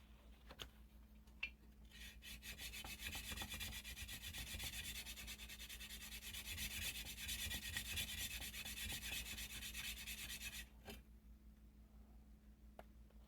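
Steady abrasive rasping of 80 grit sandpaper working metal bolsters on a handmade pocket knife, continuous and close for about nine seconds before stopping, with faint taps before and after.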